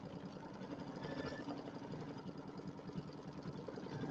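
An embroidery machine satin stitching a Halloween design, a steady fast mechanical whir with rapid needle ticking that runs continuously and fairly close.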